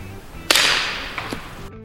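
A single muffled suppressed rifle shot with subsonic ammunition cracks with a short hiss, followed a moment later by a faint distant thump downrange.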